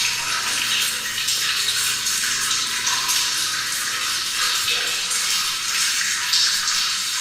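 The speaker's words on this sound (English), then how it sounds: "There's water dripping, which drowns out the sound somewhat" Water inside an old mine tunnel, heard as a continuous hissing, splashing wash rather than separate drips, steady and fairly loud throughout with no voices.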